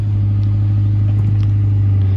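Twin-turbo V8 of a BMW 650i idling right after a push-button start, a loud, steady low rumble close up with a slight clatter and no voices.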